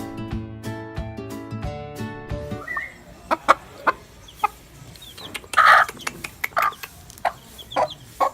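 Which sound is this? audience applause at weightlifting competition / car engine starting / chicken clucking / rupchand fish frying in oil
chicken clucking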